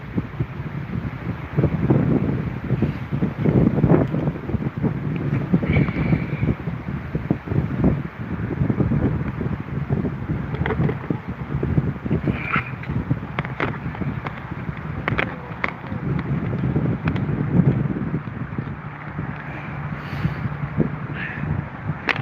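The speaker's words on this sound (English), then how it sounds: "So windy." Strong wind gusting outdoors beside a river where anglers are fishing, a steady broadband rumble of wind buffeting the microphone throughout, with faint rustling and occasional brief knocks.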